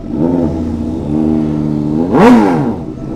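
A cheap motorcycle engine runs loud and close, idling with a buzzing tone, dipping briefly, then surging in a sharp rev that quickly falls back to idle.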